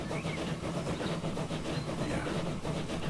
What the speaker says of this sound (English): because it's a freight train.